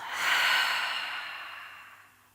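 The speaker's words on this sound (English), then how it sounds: "Take a nice big deep breath in through the nose. Open the mouth, exhale." A single deep exhale through an open mouth during a calm yoga session, a soft breathy rush that swells quickly, then fades slowly over about two seconds, close and alone.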